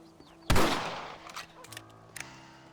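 A single loud rifle shot from Red Dead Redemption cracks out close by on a hunting outing, then decays into a rolling echo, with a few faint clicks and small sounds trailing after.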